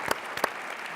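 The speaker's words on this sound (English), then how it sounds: "Can you just give them a round of applause for doing this?" An audience claps through a round of applause at an afternoon plenary session, a brief burst of hand claps with a couple of louder peaks, fairly steady and close.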